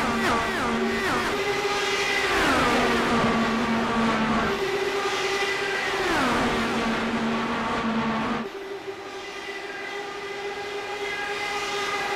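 Indy race cars at Texas Motor Speedway in iRacing, engines screaming at high pitch with repeated rising and falling passes as cars sweep by, loud and close, easing to a steadier drone near the end.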